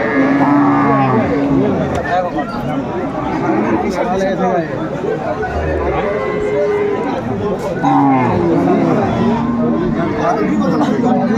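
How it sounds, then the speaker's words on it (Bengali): Cows and calves at the Aftabganj cattle market in Dinajpur moo repeatedly amid a loud, dense crowd babble, with overlapping lowing calls near and farther off and constant chatter. "আর আমরা দেখছিলাম এখানে চমৎকার একটি গাভি বাছুর"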